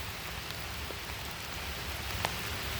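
Steady rain falls as a dense, even hiss, with a few faint droplet taps standing out now and then.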